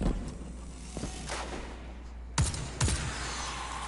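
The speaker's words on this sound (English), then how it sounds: "Oh, it's a scout rifle. Scout rifles are long-range primary weapons." Scout rifle fire in the shooter game Destiny 2, a few sharp cracks spaced apart, with two louder shots close together near the end over a steady game background.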